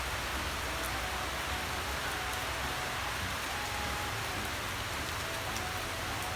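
Heavy rain pours down steadily, a dense continuous hiss of drops drumming on surfaces, loud and unbroken throughout with no voices.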